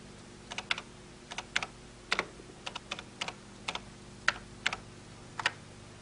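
Keys clack on a 1983 home computer keyboard as a Logo command is typed, a dozen or so crisp, irregular taps in small bursts over a quiet room hum, with no talking.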